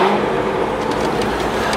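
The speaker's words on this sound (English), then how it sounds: "A little downshift in the first." A Corvette C6 Z06 fitted with a Corsa Extreme exhaust revs on a downshift, a loud, rough engine roar that holds steady throughout the short moment without any talk.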